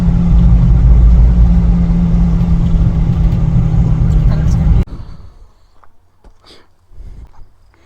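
A Honda SH150i fuel-injected 150 scooter on a test ride, a loud steady engine drone with wind rumble that cuts off abruptly, followed by quiet passing sounds.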